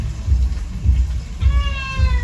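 House cat gives a single clear, close meow partway through, over a steady low rhythmic thumping in the background.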